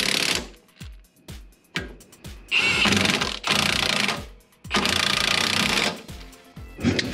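Repeated short, loud mechanical bursts from a tool tightening the strut mounting bolt nuts on a 1979-1993 Mustang during a coil-over install, with several clipped rattling hits and a few longer sustained runs separated by brief pauses.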